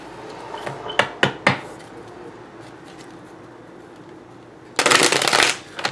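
Tarot cards shuffled by hand: three quick riffle snaps early, a quiet pause, then a longer dense ruffling burst near the end, close and crisp with no talk.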